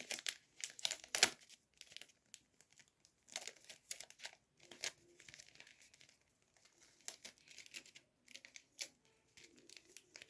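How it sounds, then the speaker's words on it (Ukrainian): A handmade paper squishy is wrapped with sticky tape, giving quiet, close crinkling and tearing bursts of paper and tape in an irregular stop-start rhythm. "І отак от склеюємо скотчем."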